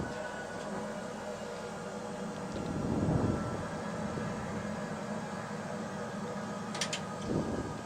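A flight simulator plays a steady, droning airplane engine on landing approach, with a broad roar that swells slightly around the middle and holds constant throughout, without speech.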